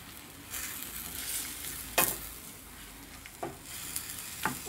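Onion is added to cooked meat in a pan and fries with a soft steady sizzle, broken by a few sharp scraping clacks of stirring, fairly quiet and close.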